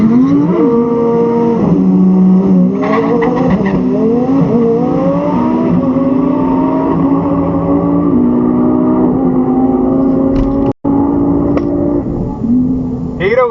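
A twin-turbo V10 Audi R8 and a Tesla Plaid make a quarter-mile drag pass, with a loud engine wailing and rising in pitch through repeated gear changes, close and dominant, with a brief dropout near the end.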